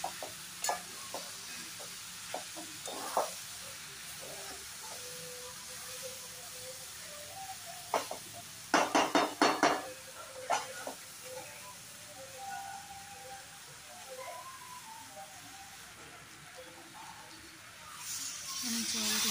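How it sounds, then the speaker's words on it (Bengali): Chopped spinach goes into a hot pan for niramish labra, giving a soft sizzle and hiss with scattered stirring clatters and a brief burst of louder scraping, while a voice speaks at moments. "পালং শাকটা দিয়ে দিচ্ছি।"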